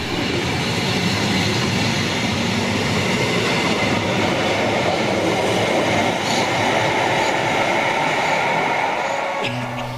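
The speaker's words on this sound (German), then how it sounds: "In Davos-Larette machen wir Station und lassen den Zug weiterfahren." A Rhaetian Railway train pulls away from the station at Davos, its wheels and carriages rumbling steadily and loudly close by, with a continuous rolling roar and a sharp clack near the end.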